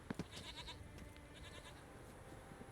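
A billy goat bleats in The Witcher 3, a few short, quavering calls at the start over a low ambient game backdrop, with softer bleats following faintly.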